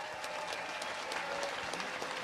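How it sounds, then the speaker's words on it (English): Audience applause at a millionaire panel event, a steady dense wash of clapping that holds evenly through the whole stretch at moderate distance, with no voices over it. "give him a round of applause"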